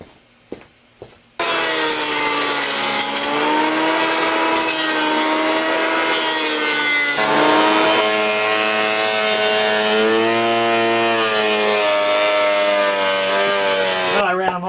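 Wood boards run through a planer in a workshop. A few short knocks come first, then a loud, sustained machine whine whose pitch shifts as the boards feed through.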